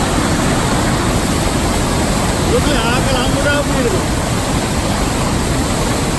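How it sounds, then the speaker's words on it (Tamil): Athabasca Falls in Alberta, where water drops about 75 feet, makes a loud, unbroken broadband roar throughout, with a faint voice rising briefly midway. "கீழே 75 தாக்கத்தில் தண்ணி விழுது."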